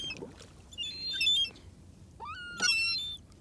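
Seagulls calling outdoors at lunch time, two bursts of harsh, high squawking cries, the first around the one-second mark and a louder, closer call near the end, over a low background rumble.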